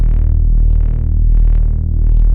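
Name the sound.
compressed synth saw bass for melodic drum and bass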